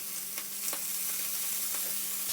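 Flat fish pan frying in oil over medium-high heat, a steady, close crackling sizzle with occasional sharper pops, continuous with no talking.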